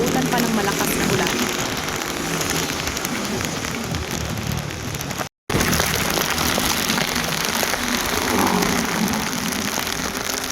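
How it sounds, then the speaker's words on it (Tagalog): Heavy rain pours down during a ride home toward Manila, a dense, constant hiss that fills everything and cuts out for a brief instant midway. "One hour away na nga lang sa bahay ay naabutan pa ng malakas na ulan."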